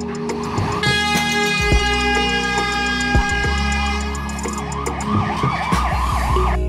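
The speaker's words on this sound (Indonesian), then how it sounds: "Mobil truk pemadam kebakaran" A toy fire rescue truck siren wails loudly and continuously, with a rising and falling electronic tone over a steady buzzing hum, close and alone.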